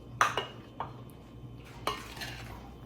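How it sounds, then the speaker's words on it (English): A spoon stirs sliced peaches with lemon juice and sugar in a bowl, giving a few soft scattered clinks and scrapes against a quiet background. "gently stir the peaches, the lemon juice, and the sugar together"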